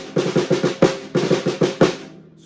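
Snare drum playing the ratamacue rudiment, two grace notes leading into single strokes, repeated twice as quick crisp clusters of hits with a stronger final stroke each time, close and alone before the ring fades out.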